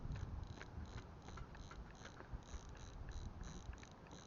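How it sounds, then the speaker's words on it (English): Drag clicking from a Sougayilang SA-4000 baitfeeder fishing reel, a quick steady run of faint, close ratcheting clicks over a soft hiss of background noise. "the drag sounds like this"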